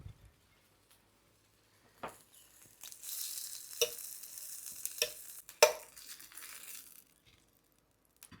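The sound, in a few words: hot dogs frying in a small frying pan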